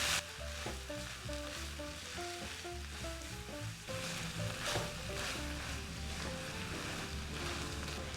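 Gray shrimp, about 800 grams, stirred into a hot pan, giving a faint continuous sizzle with soft stirring scrapes beneath steady background music, with no talking.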